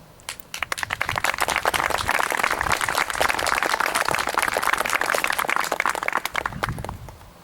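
A crowd at a 2020 school graduation ceremony claps for the graduating students, a dense, loud burst of applause that swells quickly, holds for several seconds, then fades.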